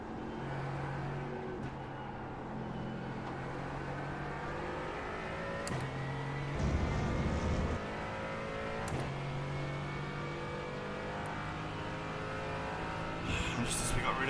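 An LMP3 race car in the iRacing video game at the Hungaroring, its engine whine rising through the gears as it passes, heard over the steady drone of the player's own car.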